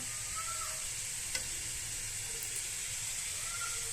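Vegetables sizzle steadily in a frying pan, a constant broadband hiss with no talk, a faint clink of a utensil partway through.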